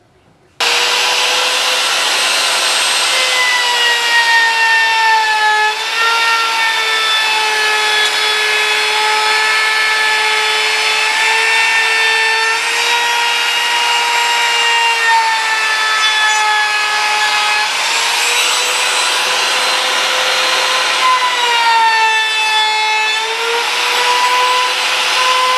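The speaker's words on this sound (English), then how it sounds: "I went around the whole thing with about a half cut on this" A spinning blade cuts around a cherry wood design with a loud, steady whining drone that holds for over twenty seconds and rises and dips slightly in pitch as the cut progresses.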